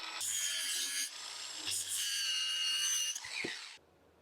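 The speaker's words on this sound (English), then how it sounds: "I am using the flap style sanding disc." A flap sanding disc grinds rusty metal welds in a harsh, bright, continuous rasp up close, broken by a brief pause and ending with a short clunk before it stops.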